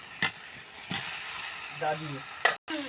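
Potatoes fry in a spiced masala, a moderate sizzling hiss punctuated by sharp utensil clanks against the pan and a brief low hum, with a short voice passing under it.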